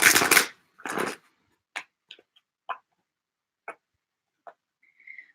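Tarot cards being shuffled by hand during a live reading session: two broad riffling bursts at the start, then scattered light taps and card flicks spaced out over several seconds, close and fairly quiet, with no talking.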